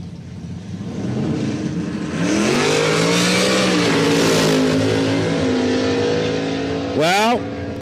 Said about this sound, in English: '69 Camaro. Camaro, obviously, here on the truck side, and the Chevelle of Eric over on the Spectator MIA POW side.